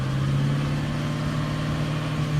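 A 1999 Mercury Grand Marquis engine holds a steady, fairly loud mid-pitched drone with a constant hum, like a light, sustained rev close by.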